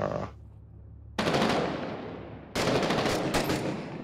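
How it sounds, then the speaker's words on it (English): Enemy gunfire in a video game, two loud sustained bursts of rapid automatic shots separated by a short lull, harsh and close. "They are shooting at us without me even seeing them."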